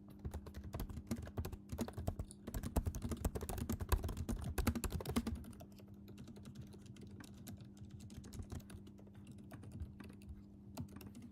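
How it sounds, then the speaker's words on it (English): Frantic typing on a computer keyboard, close and dense rapid key clatter for about five seconds, then lighter, sparser keystrokes over a faint steady hum, with no talking. "I can hear myself typing so frantically."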